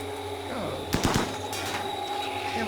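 A short burst of gunfire in RimWorld, a few sharp cracks clustered together over a steady background hum, fairly close and alone without talk.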